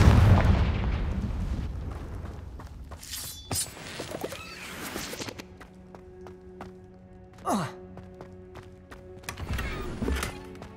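Confringo spell blast in Hogwarts Legacy, a booming explosive burst at the start followed by crackling magic effects and a few further sharp impacts, fairly loud amid game sounds.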